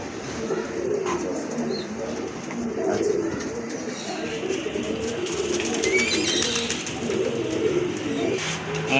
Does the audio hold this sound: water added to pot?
no